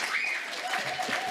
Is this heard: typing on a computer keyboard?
no